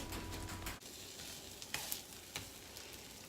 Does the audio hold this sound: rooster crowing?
no